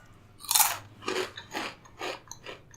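Ruffles hot wings potato chips crunch between the teeth in five crisp bites, each sharp crackle followed by quieter chewing, close and alone without talk.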